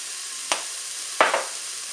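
Food in a cookeo pot is stirred over a soft background sizzle, with two sharp scraping strokes about three-quarters of a second apart.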